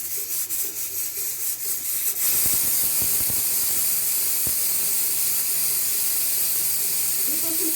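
Pressure cooker with jackfruit inside, a broad hissing steam release that jumps louder after about two seconds and holds steady, with scattered clicks and rattles beneath the continuous hiss.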